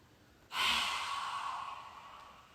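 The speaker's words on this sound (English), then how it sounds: "Breathe in." Deep inhalation during a qigong exercise: a single soft, close breath drawn in through the nose, rising quickly and tapering slowly over about two seconds in a quiet room.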